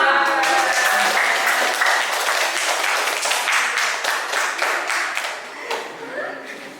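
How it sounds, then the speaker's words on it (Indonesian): A classroom audience applauding a student group after a chemistry presentation, with loud, dense clapping that gradually fades toward the end, and voices mixed in beneath the claps. "Tepuk tangan untuk kelompok 5"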